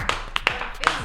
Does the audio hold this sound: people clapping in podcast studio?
yes